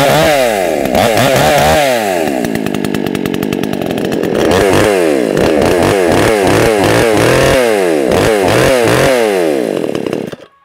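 Evotools CS 550 chainsaw running close and loud, its two-stroke engine revving up and down repeatedly in whining surges before cutting off abruptly at the end.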